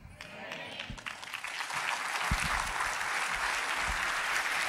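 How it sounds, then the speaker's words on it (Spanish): Church congregation applauding during a sermon by a pastor, dense clapping building and holding steady for several seconds, with a few louder low thumps and some voices faintly beneath. "Si ha de aplaudir, aplauda bien, porque es al Señor a quien aplaude su palabra."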